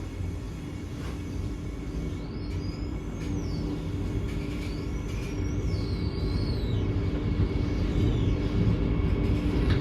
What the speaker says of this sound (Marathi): मित्रांनो आपली गाडी रेणुगुंटा रेल्वे स्टेशनला स्किप करते.